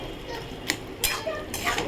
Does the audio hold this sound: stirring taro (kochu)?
yes